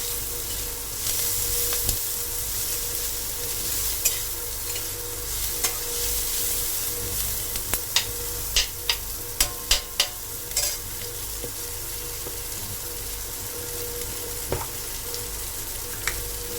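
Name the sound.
stirring egg curry in a pan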